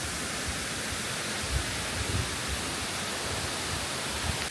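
Steady rushing water from a waterfall and stream at a three-cascade site on Tahiti, a dense, constant roar with no pauses and no voices.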